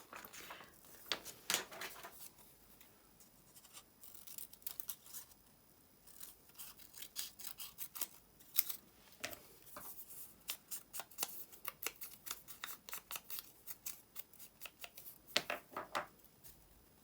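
Scissors snip paper for a craft project at close range, a quiet series of irregular crisp cuts and rustles, clustered in bursts with short pauses between.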